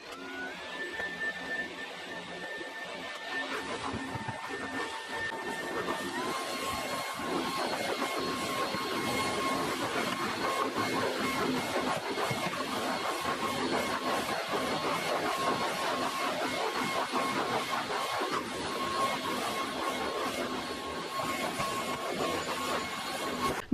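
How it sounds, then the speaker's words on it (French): A vacuum cleaner whines steadily and loudly throughout, its motor pitch shifting slightly early on, with no voices. "Je vais prendre mon aspirateur."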